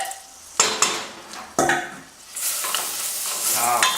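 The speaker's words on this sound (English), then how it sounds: "that's a good sizzle" Butter sizzling and crackling in a pot while making rice, broken by a few sharp scrapes and knocks of a utensil against metal, close and fairly loud.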